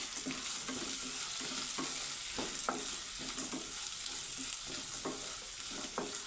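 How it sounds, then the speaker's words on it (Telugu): Roasted gram dal (gulla pappu) dry-frying in a kadai, a spatula scraping and stirring in repeated strokes over a soft, steady sizzle, with no voices. "ఇందులో గుల్లపప్పు అయితే యాడ్ చేసుకుందామండి. కొద్దిగా వేపుకుందాం."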